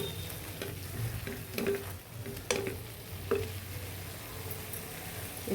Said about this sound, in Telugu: ఇదిగండి గోంగూర కూడా ఉడికిపోయింది.